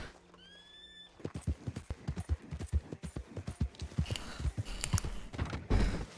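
A whinny opens a run of steady horse hoofbeats in Red Dead Redemption 2 Online, the clip-clop moving in a quick regular rhythm, fairly close and clear, with a little voice near the end.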